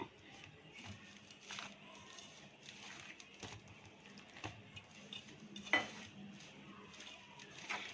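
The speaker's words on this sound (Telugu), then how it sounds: "ఇప్పుడు దీన్ని ఇలా మొత్తం కలిసిపోయేట్టుగా కలుపుకోవాలి, లూజ్గా కలపాలి" Hands mix a potato filling for aloo bonda in a bowl, giving soft, quiet squelching and scattered light clinks, with occasional brief sharper taps against a faint low hum.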